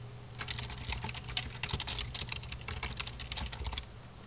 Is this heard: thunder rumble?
no